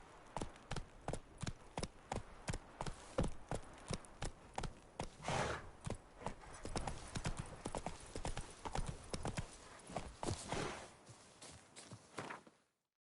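Horse hooves clip-clop in The Witcher 3 at a steady fast gait, a rhythmic run of sharp, close thuds that carries on throughout, with brief voice sounds over it.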